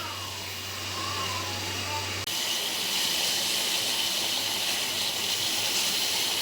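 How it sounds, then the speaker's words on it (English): A continuous hissing, rushing sound of water from melted ice coming to a boil, with a low hum at first that cuts off, then louder steady bubbling hiss. "Now you can see it, the water start boiling"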